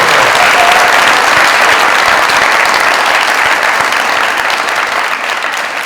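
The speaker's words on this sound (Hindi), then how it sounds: "आप सब लोगों की जोरदार तालियों में जब इतना बड़ा फनकार आता है" Loud, dense applause from a studio audience greeting a Pashto film star's entrance on a comedy talk show, sustained steadily throughout and tapering only slightly toward the end.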